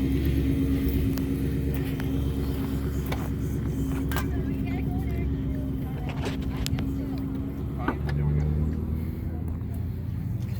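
A Ferrari 459 V8 idles with a low, steady rumble at an outdoor car show in Mesa, Arizona, while people talk nearby over the engine drone.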